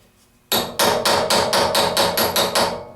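A steel hammer strikes a gasket punch set on a firm oak block while cutting a gasket for a Weber IDF carburetor, giving nine loud, sharp, evenly spaced blows in steady rhythm with no talk.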